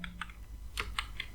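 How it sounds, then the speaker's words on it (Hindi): A few quick keystrokes tap on a computer keyboard while text is typed into Notepad. The clicks are light and sparse, spread unevenly over a second. "मैंने ये टाइप किया"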